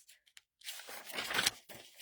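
Paper shuffled and crinkled close to a microphone in a quiet room, a few soft rustles followed by a louder burst of crumpling and rustling, with no talk.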